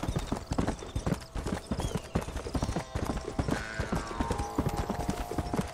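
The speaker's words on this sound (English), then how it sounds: "extended horse riding sequence" Steady clip-clop of a horse's galloping hooves in Red Dead Redemption, close and continuous, with faint background game sounds and a brief tonal hum later on.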